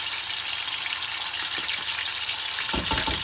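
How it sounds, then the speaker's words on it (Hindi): Chicken pieces dropped into hot oil for cheese balls fry with a steady, close, bright sizzle, with a few soft clinks and a stirring burst near the end. "इस वास्ते ऑयल गर्म हो गया। चिकन ये ऐड कर दिता"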